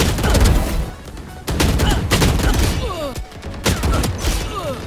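Rapid gunfire bursts in the tactical shooter Valorant, loud and close, with repeated sharp cracks and short pauses between volleys.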